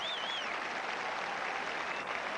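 Crowd applause at the 1988 US Open tennis tournament, a steady broad wash of clapping from a large audience that holds even throughout, with no talk over it.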